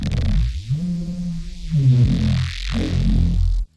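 A bass synth line with an automated EQ filter sweep, its deep tone opening and closing across a few sustained notes, loud and alone for under four seconds before cutting off abruptly.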